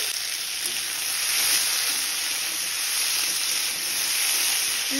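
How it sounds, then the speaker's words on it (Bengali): Chopped tomato and onion fry in a pan, giving a steady, close hiss and sizzle that holds at an even level throughout with no voices. "পেঁয়াজটা আমি যতক্ষণ না নরম হচ্ছে ততক্ষণ ভেজে নেব"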